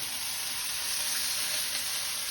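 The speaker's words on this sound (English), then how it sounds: "So give those a stir fry through. So keep them moving all the time." Vegetables seasoned and dressed with a little sesame oil stir-fry in a hot pan for Chinese-takeaway-style egg foo yung, producing a steady, close, even sizzle throughout with no talking.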